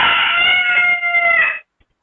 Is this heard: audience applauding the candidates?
no